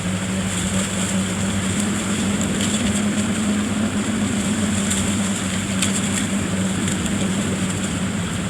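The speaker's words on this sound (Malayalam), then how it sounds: "ഇത്തിരി സ്പീഡ് കൂട്ടിയിട്ടുണ്ട് ട്രെയിനിൻ്റെ." A sped-up train engine rumbles steadily inside the Choo Choo Charles horror game, its loud, even drone continuing close and unbroken with no speech over it.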